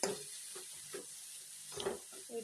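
Grated coconut tumbles into a pan of cooking raw banana and gets stirred, giving soft, quiet sizzling with several scraping stir strokes at irregular intervals, close up and without any talking.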